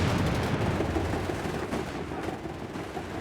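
The upgraded machine gun on a StuG in Company of Heroes 3 fires dense, continuous gunfire with rapid crackling bursts over a loud battlefield din throughout.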